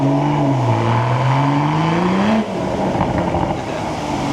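A modified Supra's engine drones and revs steadily, pitch rising and falling, loud and close to the microphone, with a brief drop in intensity partway through.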